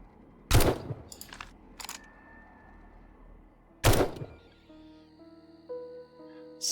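Gunfire from a new gun in the video game 7 Days to Die, two sharp loud shots several seconds apart with a few fainter thuds between, then quiet tonal game sounds.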